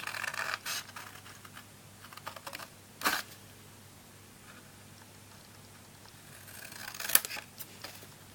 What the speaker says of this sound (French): Donc maintenant on vient bien couper ici, ici, on coupe ici